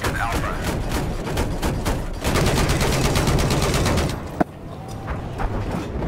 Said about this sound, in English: there appears to be an enemy machine gunner